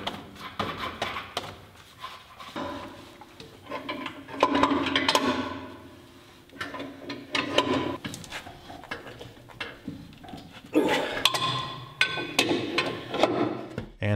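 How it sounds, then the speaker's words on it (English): A sledgehammer strikes down on the top of a badly stuck pin in a 60-inch adjustable jack stand, giving a series of loud, irregular metallic impacts close by, with low background noise between the blows. "And at the same time, we were hitting it with a sledge from the top."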